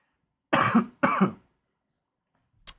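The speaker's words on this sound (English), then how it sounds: "Still got that cough." Two harsh coughs in close succession, loud and near, followed by silence and a short faint click or thump.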